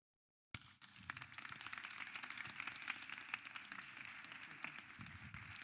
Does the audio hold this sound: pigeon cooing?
no